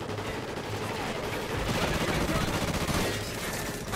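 Steady machine-gun fire rattles continuously in a video game, a dense sustained barrage that holds fairly loud for the whole stretch, with faint voices mixed in.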